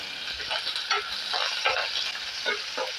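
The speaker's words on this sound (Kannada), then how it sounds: "ನೋಡಿ, ಈ ಥರ ಈರುಳ್ಳಿ ಹಾಕಿಬಿಟ್ಟು ನಾವು ಚೆನ್ನಾಗಿ ಫ್ರೈ ಮಾಡ್ಕೋಬೇಕು." Onions fry in oil as tempering for an egg and peanut sambar, with a steady close sizzle broken by several short bursts of stirring scrapes. No voices are heard.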